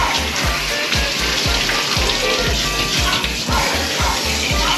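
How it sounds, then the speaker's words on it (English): Running water pours steadily as a Schnauzer's fur is rinsed during a bath, with soft splashing and faint dripping throughout. "So you gotta really rinse them good."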